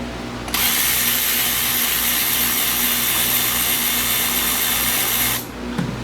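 A power tool whirs continuously for about five seconds while unbolting the A/C compressor bolts on a 2007 Kia Rio, starting abruptly and cutting off sharply, loud and close with no talking.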